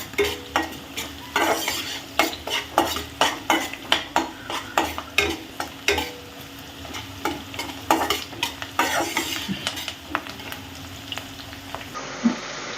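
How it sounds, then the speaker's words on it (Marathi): Onions sauté in a pan until golden for a sprouted matki rice dish, with a loud continuous sizzle and a regular rhythm of spoon strokes scraping and tapping the pan, close and alone. "कांदा छान गोल्डन रंगावर येईपर्यंत कांदा परतवून घ्यायचा आहे आपल्याला"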